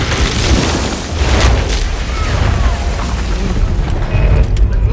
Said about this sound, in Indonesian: Setelah berbicara panjang lebar, Rykov pun meledakkan dirinya.